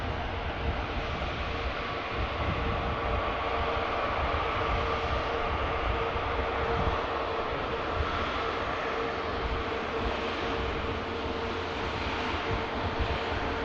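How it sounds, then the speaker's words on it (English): A Virgin Atlantic Airbus A350 taxis past at Manchester Airport, giving a steady, fairly close broadband jet rumble with a faint whine that holds even throughout, with no talking. "There's a beautiful 350 of Virgin Atlantic rolls past us."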